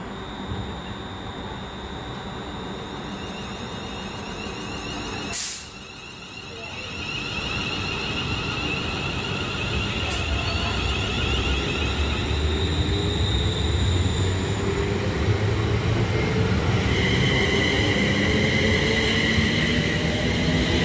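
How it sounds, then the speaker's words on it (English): A southbound train rumbles and builds steadily as it pulls away from Milton Keynes Central station, with a brief sharp tone near the start and squealing rail noise later. "let's watch the same train depart Milton Keynes Central, heading south to London Euston"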